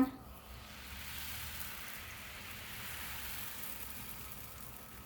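Crepe batter cooks in a pan over medium heat, giving off a soft, steady sizzle that holds evenly throughout at a fairly low level.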